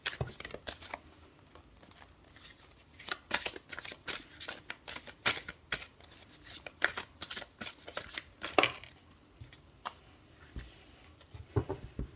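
Tarot cards being shuffled by hand in a steady run of crisp riffles and slaps, close and fairly quiet, with brief pauses between bursts and no talking.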